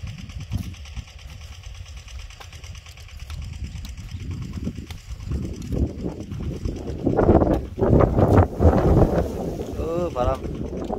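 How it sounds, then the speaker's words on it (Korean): Wind gusting across open farm fields during chili pepper seedling planting, a steady rumbling roar against the microphone that swells louder toward the end, with voices faintly underneath. "바람."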